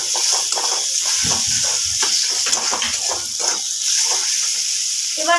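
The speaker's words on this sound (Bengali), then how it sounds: "মশলাটাকে খুব ভালোভাবে নেড়ে চেড়ে কষিয়ে নেব" Spice paste for a boal fish curry stirred and fried in a pan, giving a steady close sizzle with repeated scraping and stirring strokes throughout.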